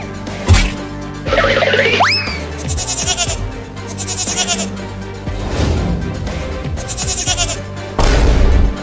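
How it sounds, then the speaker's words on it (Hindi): A cartoon goat kid bleats several times in high, wavering cries, mixed with cartoon boings, whacks and crash effects. "वो बकरी का बच्चा मेरे खेत में आ रहा है मेरा लालमी खाने"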